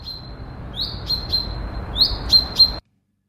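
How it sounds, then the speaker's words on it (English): A single small bird calls alone, a series of thin high chirps repeated at uneven intervals, some sliding upward, fairly close and clear over a soft background hiss before stopping abruptly. "But then he realizes there's just one bird sound."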